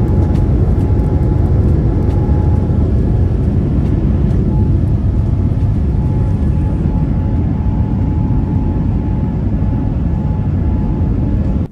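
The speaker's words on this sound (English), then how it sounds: "So here we are, aerodynamics in motion right now as the plane takes off" Inside the economy cabin of a United Airlines long-haul jet taking off from London for Houston, the engines give a loud, continuous, even roar that fills the whole stretch without letup, with no talking.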